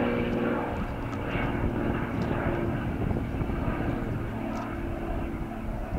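An aerobatic propeller plane flies a freestyle sequence, its engine a steady, loud, continuous drone with a slight hum of the propeller and no break throughout.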